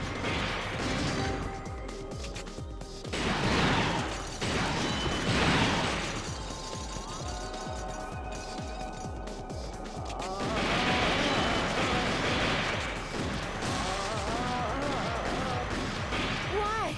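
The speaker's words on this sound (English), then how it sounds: "Shoot the crate, or shoot the glass." In the Vampire Night arcade shooting game, gunfire smashes wooden crates and glass in repeated loud crashes and thuds, layered over dense game music and effects.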